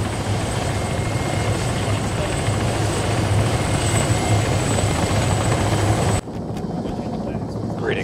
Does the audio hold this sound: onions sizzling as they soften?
no